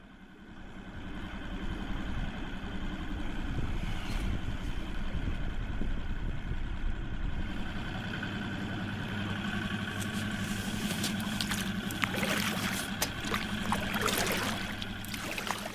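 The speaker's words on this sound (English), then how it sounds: "I used a mixture of outboard tickover and paddling to keep progressing" An outboard motor idles steadily on the River Kinglass near Loch Etive, with paddle strokes trickling and splashing nearby, the rumble continuing throughout with occasional brighter splashes toward the end.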